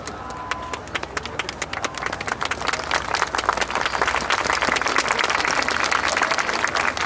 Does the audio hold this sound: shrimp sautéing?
no